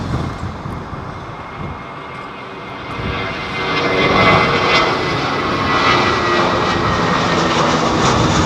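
An airliner arriving at Heathrow Airport passes as a broad, rumbling jet roar, heard from a distance at first and then growing louder and fuller as it approaches and holds steady.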